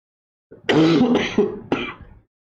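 A short burst of two or three harsh, phlegmy allergy coughs, close and fairly loud, with a brief pause before the final one.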